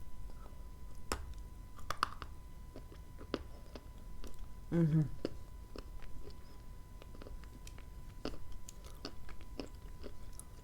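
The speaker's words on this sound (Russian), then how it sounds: "Но сейчас откусим от такого большого куска." Someone bites into a large piece of soft food and chews it slowly, with close, quiet crunches and moist mouth sounds in a hushed setting, and a brief murmur from the eater partway through.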